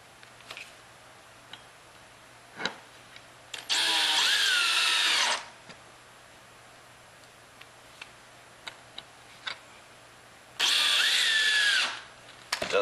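A power drill drives 1/2 inch size 6 screws into a wooden grow box, heard as two sustained whirring bursts a few seconds each, separated by quiet stretches with faint ticks and taps.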